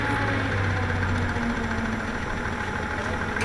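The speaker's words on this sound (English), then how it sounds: "Sand truck, a dump truck that carries sand to construction sites." A sand-hauling dump truck's engine idles steadily, a low continuous rumble with a slight knocking vibration, close and unbroken throughout.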